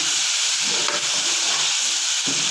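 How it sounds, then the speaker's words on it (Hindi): Tomato paste stirred into hot masala in a pan for a lauki kebab masala, with a steady loud hiss and sizzle and faint stirring scrapes, near and without voices. "अब हम इसमें डालते हैं ये टमाटो पेस्ट है। आप इसमें अदरक टमाटर छोटे छोटे काट के भी डाल सकते हैं। इसको अच्छी तरह मिक्स करें"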